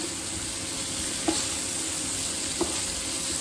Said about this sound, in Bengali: হালকা ভাজলেই হবে।